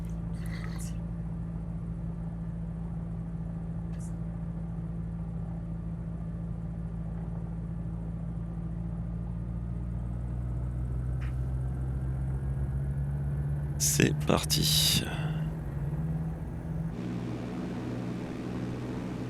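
A small airplane taxiing in Microsoft Flight Simulator, its engine a steady droning hum throughout, with a few sharp clicks and a brief burst of rattling toward the end; someone speaks briefly.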